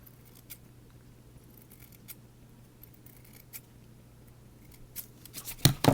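Scissors snip through olive fly-tying fiber near the end, a couple of sharp close cuts after quiet handling noise and a faint steady hum.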